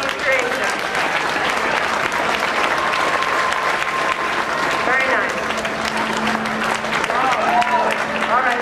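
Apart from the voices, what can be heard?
convention audience applause for a costume creation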